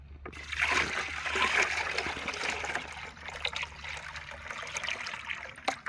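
Maple sap poured from one bucket into another outdoors, a steady trickling and splashing stream of liquid running for several seconds, fairly close, with small drips and splatters near the end and no talking.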